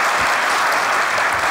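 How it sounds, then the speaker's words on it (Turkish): A studio comedy audience gives a short burst of dense, loud applause for the sketches, a continuous wash of clapping with no break. "skeçler için bir alkış isterim"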